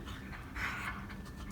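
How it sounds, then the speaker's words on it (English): A dog pants indoors in quick, soft, breathy rhythmic puffs, faint and close, with no talking. "Please excuse my dog."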